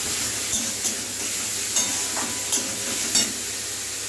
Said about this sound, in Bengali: আরো সামান্য তেল দিয়ে দিলাম